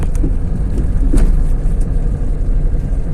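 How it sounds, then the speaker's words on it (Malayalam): Vehicles on a nearby bus route road in Palakkad, Kerala rumble past at moderate distance, a steady, loud low engine drone with slight swells as traffic moves by. "അതാണ്ട ആ വണ്ടികൾ പോണത് ബസ് റൂട്ടാണ്"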